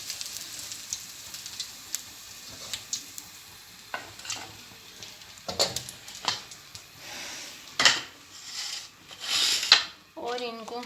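Potato cutlets lifted out of a hot pan onto a plate, with faint sizzling, scraping and light clinks of utensil against pan and plate, soft and intermittent, ending in a brief bubbling fry.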